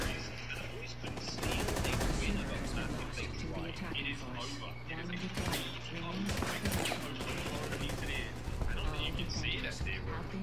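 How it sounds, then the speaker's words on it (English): Video game gunfire in bursts and rapid automatic volleys with sharp cracks throughout, loud and close amid other game effects, with players talking over it. "I was getting shot at by that guy"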